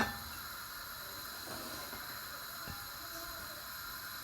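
Water heats toward a boil in a cooking pan with a steady, faint hiss and a few soft bubbling ticks, close and alone with no talk.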